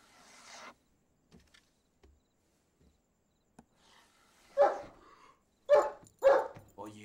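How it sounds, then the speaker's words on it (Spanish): A dog barks a few times in quick succession midway through, loud and close, after a mostly quiet stretch with faint knocks and a brief voice at the start. "Oye, basta de ladridos."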